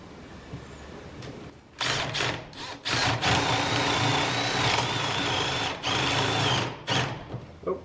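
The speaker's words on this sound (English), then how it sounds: "then just drill down and hope for the best" Spade bit drilling into wood during strip planking on a wooden boat cabin, a loud power drill whirring in several bursts with short pauses, close and harsh.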